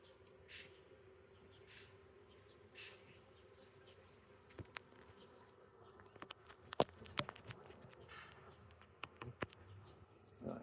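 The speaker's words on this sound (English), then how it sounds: "that's the buzz of a queenless hive" Steady low hum of a queenless honeybee hive during a beekeeping inspection, a faint continuous buzz with scattered sharp knocks and clicks from handling the hive frames, close and quiet.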